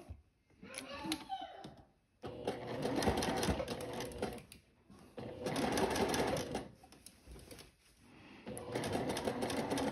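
A sewing machine runs a seam on a floral sundress in three bursts, pausing between runs, loud and close with a steady rapid mechanical patter.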